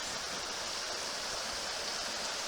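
A river rushes past a gravel bar in woodland, a steady, broad hiss of flowing water that fills the short clip evenly, faint and with no talk.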